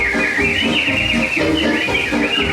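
Animatronic birds in Disney's Enchanted Tiki Room at Disneyland whistle and chirp in a continuous, dense chorus over steady musical accompaniment, filling the room at a constant loud level.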